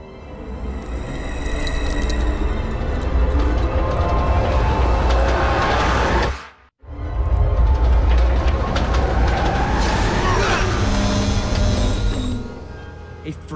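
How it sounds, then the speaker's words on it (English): A magnetic train in an animated cartoon rumbles and clatters along the tracks, loud and close, with a brief drop-out midway, then metallic squeals and rolling noise before fading. "Anybody else wondering why there's a train running down here?"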